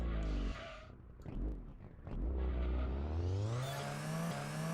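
A game car engine whirs and drops away, then revs up steadily in rising pitch as the vehicle drives in reverse, loud and close with no talk over it.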